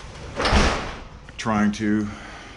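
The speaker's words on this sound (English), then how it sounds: "Obviously I have to roll up the door to get the inside of it." A garage roll-up door is rolled up during a DIY garage remodel. It gives a brief loud metallic rattle, followed by close speech.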